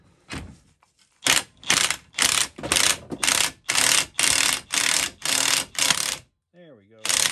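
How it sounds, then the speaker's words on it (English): A pneumatic impact wrench hammers in loud, rapid bursts, about nine in a row, while loosening a stuck U-joint on a Ford Super Duty truck, very close and alone. "That one is pretty well stuck, so I'm going to use the impact gun."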